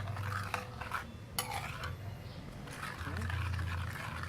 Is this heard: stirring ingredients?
yes